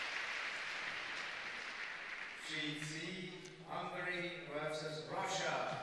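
Packed crowd at the Ice Sports Centre before a women's curling match, Scotland against Switzerland, a broad wash of applause that continues under a commentator's voice.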